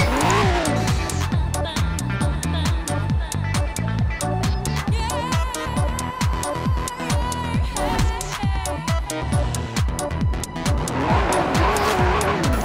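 Acura NSX pulling away with its tires spinning, a loud continuous screech of wheelspin over a revving engine that climbs through first gear, sustained and close throughout.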